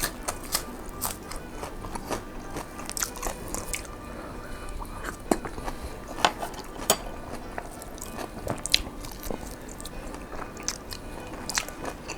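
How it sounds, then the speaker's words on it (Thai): Close biting and chewing of eggplant soup and sun-dried pork with fresh vegetables, wet squishy chews and occasional crunches repeating irregularly with no talk. "กินคำใหญ่ๆเลย ให้มันสะใจ"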